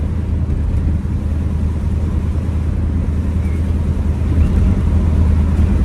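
A 1971 Ford Mustang 302 V8 coupe with an automatic gearbox is driving on a bumpy road, giving a steady, low engine rumble with wind and road noise from inside the car with the window open.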